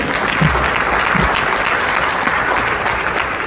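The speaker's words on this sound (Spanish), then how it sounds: "un aplauso para ellos, por favor." An audience at a lecture gives loud, dense applause that keeps up steadily throughout, close and full, with no talk over it.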